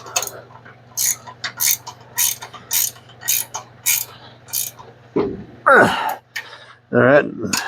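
A hand ratchet clicks in quick bursts while tightening front suspension bolts on a Square Body Chevrolet C10, close and crisp, with a steady low hum underneath and a person briefly talking and breathing near the end.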